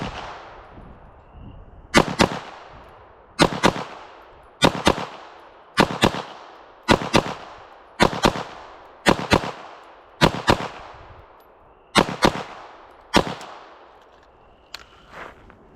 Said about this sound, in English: now we've moved up and we're gonna try some doubles into the body